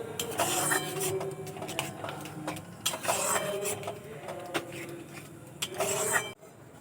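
Garam masala powder is stirred into raw grated potato in a bowl. Steady scraping and clinking from a utensil against the bowl comes in repeated strokes, close and moderately loud, and cuts off abruptly near the end.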